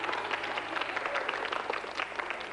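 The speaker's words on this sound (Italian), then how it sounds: "Io farei un applauso a questo coniglio magico." Studio audience on a 1989 Italian TV magic show applauding a rabbit trick, a brisk, even burst of clapping from a crowd that fills the short moment.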